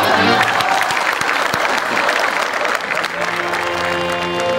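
A live studio audience at a Marathi stage comedy show claps in loud, sustained applause that stays full throughout, with a few voices faintly under the clapping.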